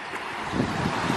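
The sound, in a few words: river flowing through woodland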